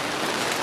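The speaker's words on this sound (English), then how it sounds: "the rain has just recently picked up too" Rain falls at a dark Thanksgiving campsite, a brief, even, close hiss with no voices.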